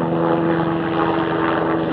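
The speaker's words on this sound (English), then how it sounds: "There's a chopper in the air" A helicopter flying overhead above a small vegetable plot gives a loud, steady engine drone with a throbbing rotor hum that carries evenly throughout, with no speech.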